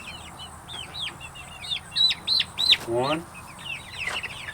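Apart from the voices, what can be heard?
chicken pullets clucking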